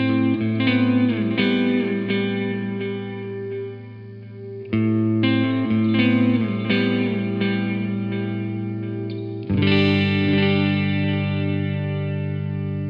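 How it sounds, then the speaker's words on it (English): An electric guitar signal runs through a delay effect, with sustained chords ringing out and repeated echoes trailing behind each strum across several phrases, loud and without any voice. "We all know what happens when you apply a delay in the triple-digit millisecond range to a signal. You get delay, or echo."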